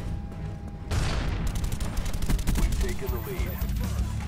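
AK-47 fire in Call of Duty: Black Ops 1 erupts after a quiet moment into rapid close bursts of automatic shots, loud and punchy with a few pauses between them, while a player talks over the gunfire.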